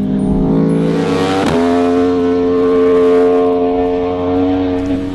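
Aprilia RSV4 V4 sport motorcycle engine running steadily on a race track, a loud, sustained harmonic drone near the listener with a brief surge around mid-clip, then holding at mid-range revs.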